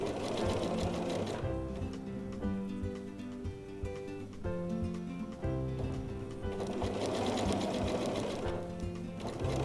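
A sewing machine stitches a shirt tail hem, its needle running in a steady rapid chatter that speeds and slows in a few bursts, close and clear with no talking.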